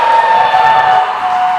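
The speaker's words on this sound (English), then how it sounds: "this crowd gets behind Devon Parkside" Wrestling crowd at a Pro Wrestling Ontario event cheering for Devon Parkside, a steady, loud wash of many voices holding evenly throughout with a sustained high whistle-like tone running through it.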